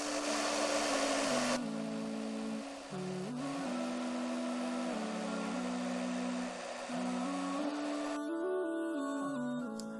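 Blender whirring through soaked rice with yeast and sugar for sinasir batter, a steady loud motor drone with slight pitch dips as the load shifts, running alone without voices.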